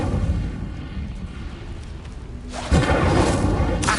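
A fire spell from Hogwarts Legacy bursts out as a loud, sudden whoosh and roaring flare that sustains after a rumbling, noisy lead-in.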